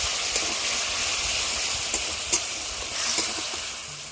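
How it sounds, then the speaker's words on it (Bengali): Spice paste for rui fish kalia sizzling in hot oil as it is sautéed with a splash of water, a steady close frying hiss broken by scattered scrape-and-stir knocks of a spatula in the pan, no voices. "এবার মশলা ধোয়া বাটিটা থেকে অল্প একটু জল দিয়ে দেবো ভালো করে কষিয়ে নেব মশলাটা"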